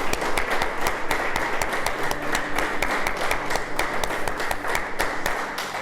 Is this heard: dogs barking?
no